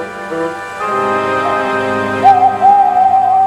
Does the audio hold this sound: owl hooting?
yes